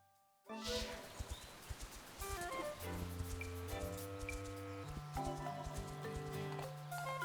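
A horse's hooves clip-clop in The Legend of Zelda: Echoes of Wisdom. The quick, rhythmic hoofbeats are clearest at the start and then continue under melodic game music.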